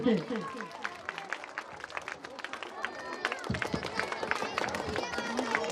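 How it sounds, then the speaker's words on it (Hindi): Steady, continuous applause from a crowd at a coaching centre's 26 January event, many hands clapping at once with a dense, rippling texture that carries on throughout. "लगातार तालियां बजनी चाहिए"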